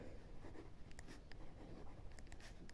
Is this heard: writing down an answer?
yes